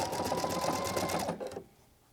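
A Pfaff Creative Icon sewing machine stitches at a steady fast rhythm, close and loud, then stops abruptly near the end, leaving quiet.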